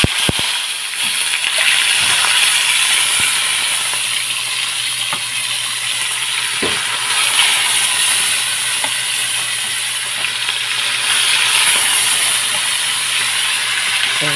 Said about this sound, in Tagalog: Prito lang natin yan.